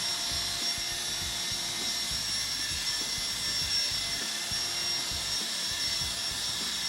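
An Oster Classic 76 hair clipper fitted with a number 2 blade cuts hair at home, giving a constant close mechanical buzz with soft irregular crunches as it runs through the hair.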